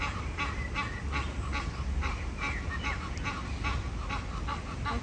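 Ducks quack repeatedly in quick, uneven bursts over a steady low outdoor rumble, fairly close and continuous throughout.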